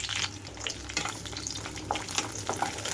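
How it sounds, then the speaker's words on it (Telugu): Green chillies frying in about two tablespoons of oil for a dondakaya pachadi, a soft, continuous sizzle with faint crackles and light stirring, fairly quiet. "ఇందులోకి ముందుగా పచ్చిమిరపకాయలు వేసి వేయించుకుంటున్నాను"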